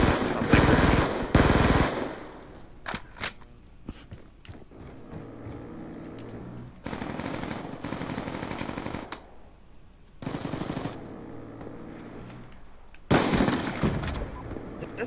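Automatic fire from a sentry turret machine gun in a video game: loud, close bursts open and close the stretch, with quieter rattling and mechanical clatter between them.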